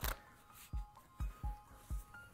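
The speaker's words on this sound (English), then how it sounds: "One more shuffle, since we have a few cards left." A deck of playing cards being shuffled by a magician: five or six soft, quiet riffling bursts in an uneven rhythm, heard close up with no talking.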